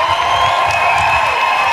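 Studio audience at a live comedy stage show cheering and shouting loudly, a dense, steady wall of crowd noise with whoops for the performers, close and sustained throughout.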